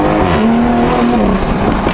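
A Toyota Mark V Supra accelerates hard with its exhaust valves open, giving a loud, close engine roar that rises steadily in pitch through the rev range, with no talk.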